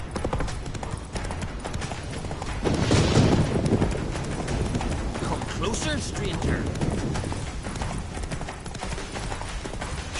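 Roach, a horse in The Witcher 3 video game, gallops with rapid repeated hoofbeats throughout while a voice speaks over the ride and a brief louder burst of action sounds in the middle.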